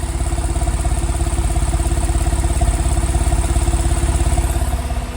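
A 2009 Porsche 911 Carrera Cabriolet with a six-speed manual idles through its dual exhaust outlets in a steady, even burble heard up close, with no other sounds.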